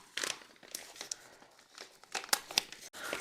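Bubble wrap packaging from an AliExpress parcel being opened, giving a run of close crinkling and crackling rustles with a few sharper tearing snaps, with no talking.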